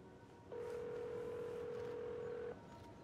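Steady telephone dial tone from a phone in the video game Alan Wake 2, a single continuous mid-pitched hum lasting about two seconds that starts and stops abruptly over quiet background, no speech.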